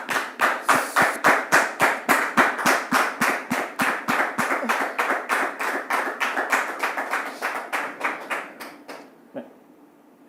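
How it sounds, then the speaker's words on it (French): An audience at a staged event claps loudly and steadily in a fast, even rhythm. The clapping fades over the last seconds, and a lone tap sounds near the end. "vous demander de le recevoir sous vos applaudissements"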